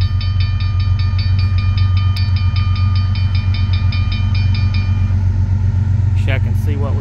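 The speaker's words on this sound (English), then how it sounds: "We've got a train moving through." Train rolling through town on rail tracks at night, a loud steady rumble with rhythmic wheel clatter and a repeating high ringing tone, while people talk nearby.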